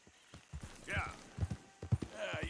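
Horse hooves clip-clopping in Red Dead Redemption, a series of close, sharp hoof knocks at an uneven walking pace, with a voice speaking over them.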